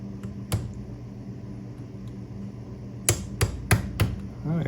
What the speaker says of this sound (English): here's a little pin punch. So I've got one of my lighter weight hammers here